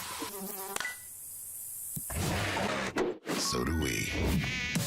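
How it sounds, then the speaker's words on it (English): A mosquito buzzes in a Terminix pest control ad, a thin high whine heard close up early on, followed by sharp hits and louder busy sound while a voice speaks briefly. "When mosquitoes show up,"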